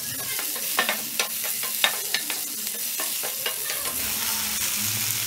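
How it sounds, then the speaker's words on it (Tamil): Two chopped tomatoes sautéing in a pan for a chutney, a steady sizzle with repeated sharp scrapes and clicks of a spoon stirring against the pan, close and alone with no talk. "இந்த தக்காளியை இப்ப நம்ம நல்லா வதக்கணும்."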